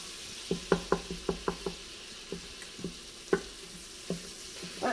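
Fat melting and sizzling in an Instant Pot, heard as a run of soft crackling pops and spits, clustered early and then spaced out, close and fairly quiet with no talk.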